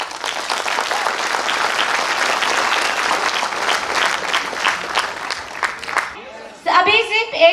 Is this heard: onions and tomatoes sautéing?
no